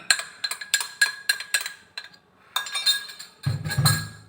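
Flour is stirred into a chicken and egg mixture in a bowl, with quick, close clinks and scrapes of a utensil against the bowl in irregular bursts and a dull thud near the end.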